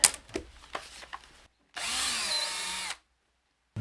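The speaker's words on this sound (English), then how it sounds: "Circles drawn. Get these pre-drilled again." A power drill pre-drills holes in wood for DIY saw horses: a steady whirring burst of about a second after some light handling clatter, then silence.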